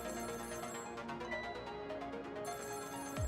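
Telephone ringing inside the video game Ghost Trick: Phantom Detective, a rapid electronic ring repeating in short bursts over a steady game music bed, clear and moderately loud.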